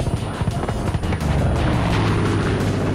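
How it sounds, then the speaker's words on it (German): Rapid booms and crashing blasts from a video game fill the clip, dense and loud, settling into a sustained low rumble. "Was explodiert da immer so?"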